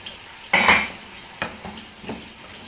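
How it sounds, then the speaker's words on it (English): A spoon stirs tea-infused rice in a metal pot, with a sharp scrape and clatter followed by two softer scraping strokes, close up and without talk. "Now I'm going to go ahead and stir the rice a little bit more, just to make sure you want to keep it moving so that it doesn't stick too much to the pot"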